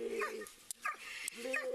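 A dog barks during a police arrest over a dog bite, with three bursts of loud, harsh, close barking and short gaps between them.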